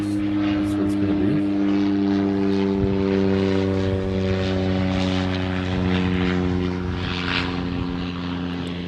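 An ANA Boeing 787 Dreamliner jet arriving from Tokyo Haneda at Honolulu airport gives a steady, loud engine drone with strong low humming tones, continuous throughout, with faint voices in the background.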